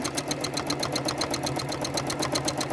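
A sewing machine with a hopping foot stitches continuous curved quilting lines through fabric, a close, rapid, even mechanical chatter that runs without pause.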